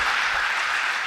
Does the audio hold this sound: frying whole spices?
no